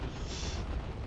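A single heavy cannon blast from the real-time strategy game Dawn of War 2, a loud booming explosion with a rumbling low end that fills the short moment without any talk.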